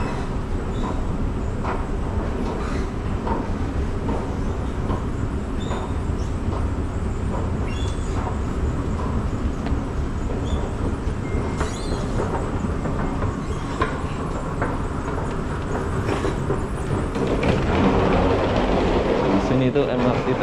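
A Taiwan MRT metro train runs along an elevated track, a steady mid-level rumble with faint clicks that swells louder toward the end.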